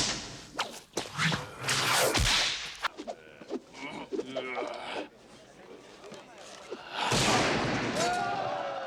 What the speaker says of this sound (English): we built up a library of whip cracks, which was the basis for Indy's sound